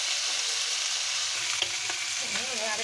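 Fish fry in hot oil in a pan, a steady bright sizzle that runs throughout, with a few faint clinks of utensils near the end and no talking.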